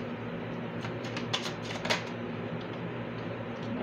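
A small deck of oracle cards shuffled by hand, a soft continuous riffling patter with a few sharper card slaps, close and fairly quiet, with no talking.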